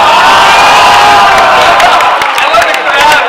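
Audience at a College Humor comedy show at New York Comic Con 2012 cheering and shouting continuously, a loud, dense crowd roar with whoops, swelling slightly and then easing near the end.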